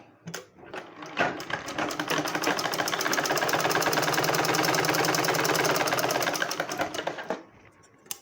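A sewing machine runs steadily stitching a blouse, a dense continuous mechanical whir lasting about six seconds after a brief start, then stopping; no one speaks.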